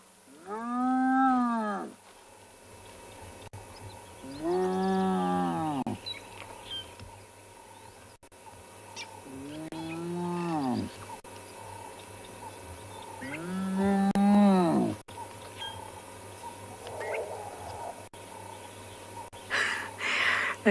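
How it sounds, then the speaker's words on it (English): Elephants in the wild, heard near a cheetah hunting wildebeest, give four loud drawn-out trumpeting calls spaced a few seconds apart over a steady hum of background noise, with a few faint bird chirps. "I don't know if you heard the elephants in the background that also sounded like they were screaming"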